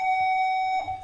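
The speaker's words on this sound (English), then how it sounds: "Excuse the beeping behind me." A single sustained electronic tone sounds loudly, holding steady before wavering and cutting off.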